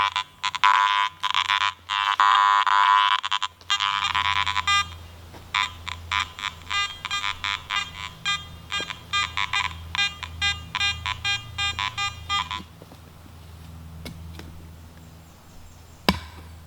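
A metal detector sounding a steady run of short, sharp electronic beeps at an even rhythm while sweeping over a buried button at an old farm site, loud and close, then fading to quiet with a single click near the end.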